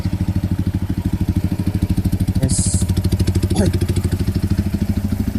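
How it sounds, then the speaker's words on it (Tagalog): Several loud motorcycle engines idle nearby at a homestay parking area, a steady pulsing putter that fills the scene, with a brief voice and a short clatter partway through. "Hindi ko alam kung dinig nyo kasi ang lakas ng mga motor na itong mga to."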